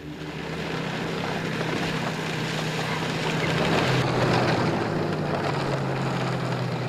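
A red, white and blue propeller aircraft in Antarctica, heard as a loud, steady engine drone with a low hum and broad wind-like noise that swells slightly midway, continuous and without voices.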